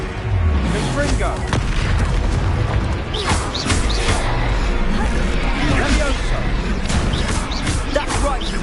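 Explosive blasts from a fire-casting spell in a video game boom repeatedly over a dense, busy wash of game noise, loud and close throughout.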